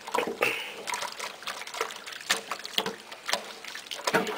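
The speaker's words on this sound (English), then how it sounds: "I'm going to squish the soapy water through all the fibers" Soapy water squished by hand through a stiff acrylic yarn hat in a sink, giving soft intermittent splashes and wet squelches at a close, moderate level with brief pauses between squeezes.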